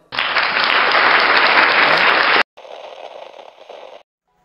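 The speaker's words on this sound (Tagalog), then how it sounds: "palakpak tayo." A group bursts into loud, dense applause for a couple of seconds, then briefly falls quiet before a second, softer spell of clapping.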